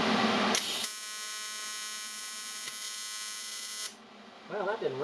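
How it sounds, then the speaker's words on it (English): A TIG welder arcs on aluminum in a build garage, a steady bright buzzing hum holding for about three seconds before cutting off, followed by brief talk. "Touched the filler to the end of the tungsten, and when you do that with aluminum, it balls up fast."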